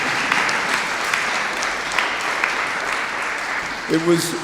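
Audience applause at an outdoor LGBTQ flag raising ceremony in Brooklyn, a steady broadband wash of clapping from a crowd, held at moderate level throughout with a few brief sharper accents.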